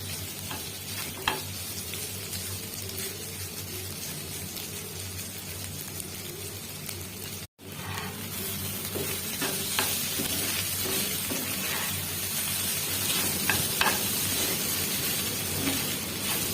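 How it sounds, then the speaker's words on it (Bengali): Spiced fish with roe fries in hot oil with a steady, close sizzle, scattered crackles and pops running throughout and one brief dropout midway. "এইভাবে আমরা সুন্দর করে ভেজে ভেজে নিতে থাকবো।"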